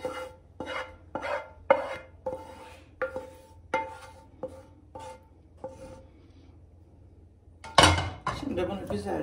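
A utensil stirs curry-sauced pasta in a pan, making a series of distinct scraping clinks at a steady pace, followed by a louder clatter near the end and a voice speaking.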